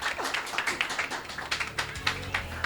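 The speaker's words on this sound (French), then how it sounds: "Applaudissez" Audience members at a mathematics contest clap for a correct answer, a short burst of scattered, uneven handclaps that is fairly faint and sparse rather than a full ovation.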